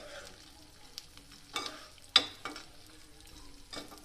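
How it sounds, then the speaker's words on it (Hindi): Panjiri ingredients, including edible gum, are roasted in a pan over a low flame, with faint sizzling, occasional soft scrapes and a sharper clink of stirring, quiet and close. "अब इसको ही भून दें हल्की आग में"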